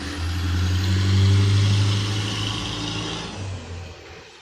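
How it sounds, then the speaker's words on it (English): A heavy truck rumbles past nearby on a city street, its deep engine drone swelling then slowly receding, loud and steady with no voices. "sorry, a truck"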